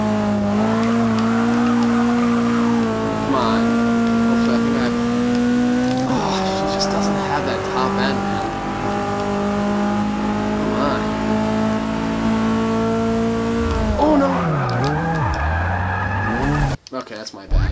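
A Datsun drifting in Forza 6: a loud, sustained engine drone with shifting revs and long tire squeal through the slides, ending in a sudden drop-off, with someone talking over it.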